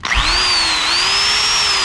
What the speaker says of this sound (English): we're going to try things like, not a cordless drill, but electric drill.